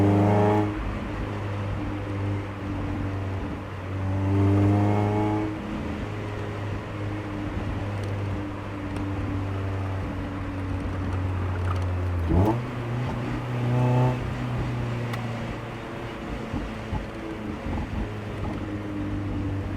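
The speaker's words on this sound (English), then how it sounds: "Exhaust is sounding so fire." A Mazda Miata NB roadster drives through downtown Raleigh, its exhaust droning steadily from inside the cabin, the engine note rising and falling with gear changes and a sharper shift near the middle, over constant road and wind rumble.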